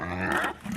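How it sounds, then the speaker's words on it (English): Young female pigs grunt and growl in a low, rough run of vocalizations, close and fairly loud, as they wait at feeding time; the sound dips briefly partway through before picking up again. "as you can tell by the sounds, I'm walking out to feed the gilts here"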